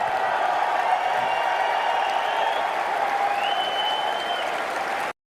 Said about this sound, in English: Oh, the applause, applause.